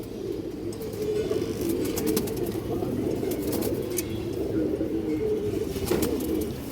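Pigeons at a market selling high-flyer and release-line birds coo together in a dense, continuous low murmur, with scattered sharper clicks and bustle layered over it.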